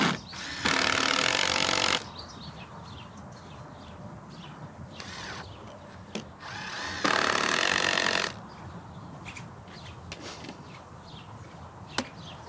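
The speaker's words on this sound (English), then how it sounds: "How deep are you burying those screws?" A power drill drives screws into wooden shed framing in two loud, sustained bursts separated by quieter handling noise, with brief knocks between.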